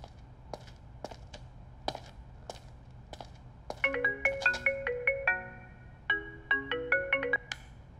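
An electronic phone ringtone plays a bright, repeating melodic pattern in two bursts, preceded by a few soft taps.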